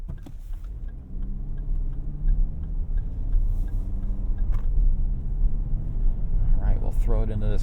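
Cabin of a 2024 Lexus TX 350 cruising on the highway, a low steady road and engine rumble under someone talking throughout, with a few small clicks and ticks inside the car.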